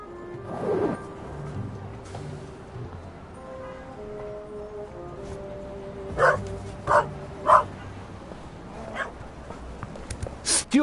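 A dog in the video game The Raven Remastered gives several short, sharp barks in quick succession over quiet in-game background sound, with one more bark near the end.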